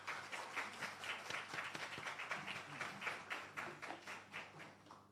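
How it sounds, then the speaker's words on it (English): An audience applauds for the keynote speaker at a records and archives ceremony, with steady, fairly faint clapping from many hands that continues for several seconds. "Please give her a nice round of applause as she comes."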